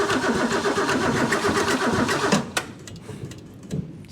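A Ford Mustang parked for 38 years cranks over with a steady churning starter rhythm but never catches, the grinding stopping abruptly partway through and leaving a few faint clicks and knocks.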